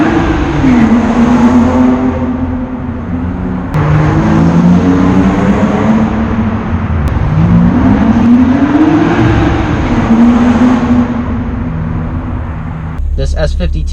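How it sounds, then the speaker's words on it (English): A BMW S52 inline-six with a resonator delete and Borla muffler drones loudly from the exhaust while driving, its pitch rising and falling through several gear changes, with a voice talking over it. "it has a resonator delete and a Borlum muffler, which sounds absolutely perfect"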